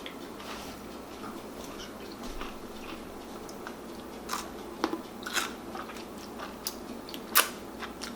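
Crunchy refrigerator pickles are bitten and chewed close to the mic, with irregular crisp crunches and moist chewing sounds rising over a quiet background.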